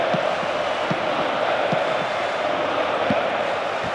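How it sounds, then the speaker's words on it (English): A stadium crowd in the PES 2009 football video game, recorded at a Champions League match: a steady, dense roar of many voices that fills the whole stretch evenly, with faint thumps scattered beneath it. "Crowd thoroughly enjoying the game as it unfolds."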